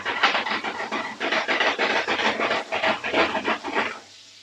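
Chapli kebab meat frying in hot oil while the pan is shaken, giving a loud, close, rhythmic hissing sizzle that pulses with each shake and then drops to a faint simmer.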